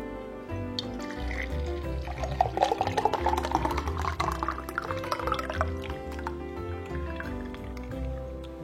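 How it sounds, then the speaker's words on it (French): Lemon mango bubble tea is poured into a can-shaped glass, giving a steady close liquid pour with drips, sloshing and squishy splashes that swell in the middle and then ease off. "Et je vais pouvoir verser ça dans mon verre canette comme tout à l'heure."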